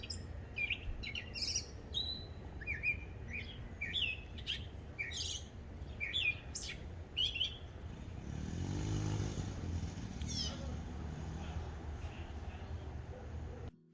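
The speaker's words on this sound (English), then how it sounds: "Who's that pretty bird singing over yonder?" A small bird sings outdoors on a homestead garden in summer, a run of bright repeated chirps and trills at moderate distance, followed by a passing motor vehicle's low rumble swelling in the background.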